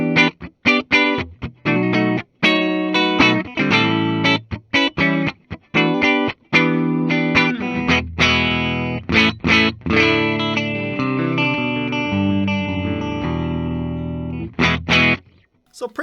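A 1969 Gibson Les Paul Deluxe electric guitar run through distortion and chorus-style effects, with chords and riffs played in bursts, then longer sustained ringing notes; loud and close, no talking.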